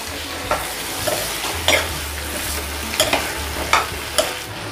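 An onion-potato curry made with skin-on potatoes is stirred in a kadhai. A spatula scrapes in regular strokes over a low, steady sizzle, close and without talk.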